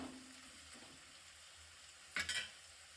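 Garlic curry with green chillies stirred in a pan for a village-style whole-garlic dish: a faint, steady scraping and soft sizzle, with a brief louder clatter near the end.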